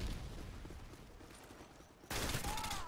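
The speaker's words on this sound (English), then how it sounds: "Ooh, hip fire." Rapid hip-fire gunshots in the 2009 video game Modern Warfare 2, a dense crackling burst that stays steady and then jumps louder partway through, with no speech over it.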